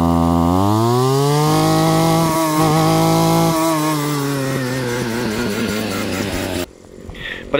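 A Husqvarna 322L string trimmer fitted with a steel blade revs up from idle to a loud, steady high-pitched two-stroke whine, wavering slightly before cutting out abruptly near the end.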